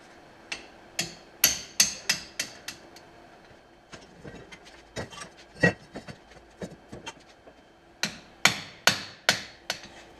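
A hammer strikes metal tapping out a bolt on a car during restoration, in quick bursts of sharp, ringing taps, several clusters of blows with short pauses between, close and loud.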